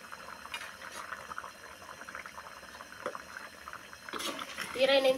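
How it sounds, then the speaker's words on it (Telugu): Mutton bone soup boils in a pot with steady, close bubbling and rolling liquid that swells louder toward the end, while a muffled voice occasionally sounds in the background. "1-20 నిమిషాలు బాగా ఉడకనియాలండి"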